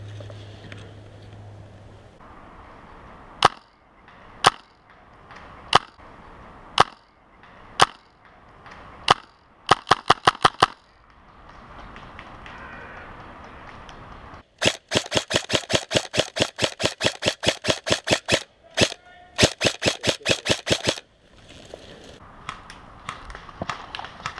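Airsoft guns fire during an outdoor airsoft game in a ravine: single sharp snapping shots spaced out at first, then short bursts and long rapid full-auto strings, crisp and fairly close.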